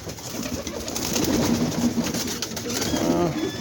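Breeding pigeons or doves coo near their nest, soft low repeated coos in short phrases sitting close over a faint background hum, with the calls returning in bursts across the stretch.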